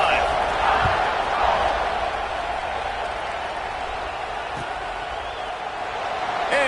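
Football stadium crowd roaring at a college game between Alabama and Marshall as the kickoff unit takes the field, a broad sustained wash of cheering that stays loud throughout.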